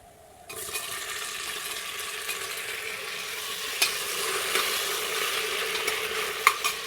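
Sliced potatoes fry in a pan with a loud, steady sizzle that starts abruptly and carries on throughout, broken by occasional clinks of stirring.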